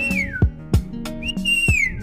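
A person whistles an imitation of a red-winged starling's call in Tanzania, giving clear sliding whistled notes mixed with short clicking sounds, close and alone.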